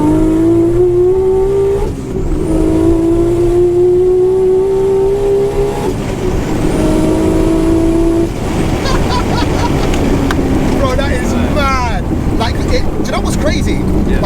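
A Nissan R34 GT-R accelerating hard through the gears, its engine note climbing steadily in each gear before dropping at the shifts, then breaking into a choppy, stuttering boost cut near the top of a gear, loud and close.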